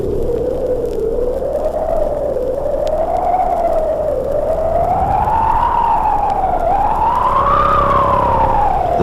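An electronic wind effect, a wavering synthetic tone that glides up and down in slow swells over a low rumble, continuous and eerie for the whole stretch.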